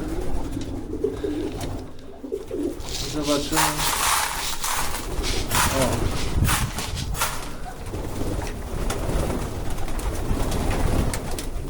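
Homing pigeons coo in low, repeated murmurs close by in a loft, with rustling and clattering around them and someone saying a few brief words.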